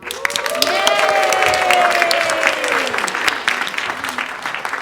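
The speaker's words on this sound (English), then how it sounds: "The crowd was sure they'd seen the winner, and they began to applaud." A crowd at a fish contest breaks into warm, dense applause, with some faint cheering, that swells and then fades while a voice speaks over it.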